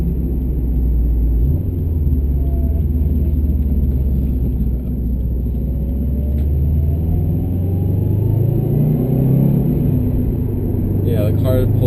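A 2013 Subaru WRX STI sedan with a COBB Stage 1 tune pulls from inside the cabin, its engine a deep, continuous rumble that climbs steadily in pitch as the car accelerates.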